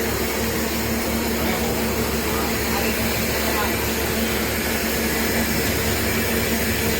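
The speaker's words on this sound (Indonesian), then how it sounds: "Dari suara mesinnya masih bagus ya" A former Pahala Kencana bus idles with a steady, dense engine drone that holds constant throughout, close and fairly loud, while a person talks over it.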